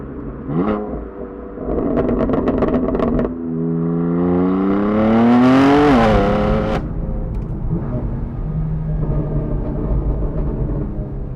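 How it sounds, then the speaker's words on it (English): A BMW M4 DTM Champion Edition engine revs hard and loud, pitch climbing then dropping, with raspy exhaust crackles and pops as it settles back to idle. "This is the loudest exhaust system I've ever heard from a standard car."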